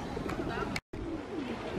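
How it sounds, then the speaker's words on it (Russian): Pigeons coo softly near a lake, low murmuring calls beneath background chatter, with a brief moment of near-total silence partway through. "Голуби."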